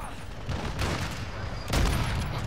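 Heavy gunfire and explosive blasts from a shotgun-mounted grenade launcher in Call of Duty, loud and continuous across the short stretch with a sharper burst near the end.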